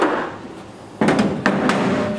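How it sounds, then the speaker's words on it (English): Small staples are hammered flush into wooden boards for a potato box, two sharp metallic strikes about half a second apart, each ringing briefly over a low background. "you gotta either hammer these little staples in"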